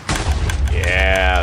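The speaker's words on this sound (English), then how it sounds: "We're going to hear some explosions sometime soon." Video game explosions go off in a rapid series of sharp booms and blasts, loud and close, followed by a bright sustained ringing tone, with a voice speaking alongside.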